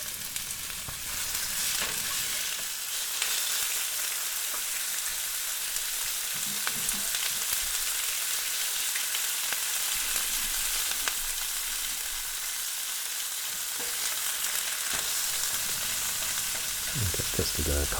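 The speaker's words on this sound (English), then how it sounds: "Let's get some oil heating in the pan. It's a canola oil. We're going to get it nice and hot. And get those meats in there to sear." Meat searing in hot canola oil in a pan for spaghetti bolognese, a steady close sizzle and crackle running without pause, with occasional faint stirring touches and no talk.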